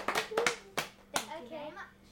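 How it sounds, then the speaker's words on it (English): A few sharp hand claps from children after an interview ring out in separated bursts, with children's voices talking and calling between and after them. "Everyone give Bilbo a round of applause."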